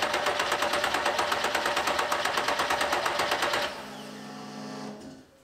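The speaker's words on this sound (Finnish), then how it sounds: "Mitataan puristuspaineet sylintereistä." Nissan Silvia engine cranked on the starter during a cylinder compression test, a rapid even chugging rhythm for several seconds that cuts off, leaving a short whirring hum before stopping.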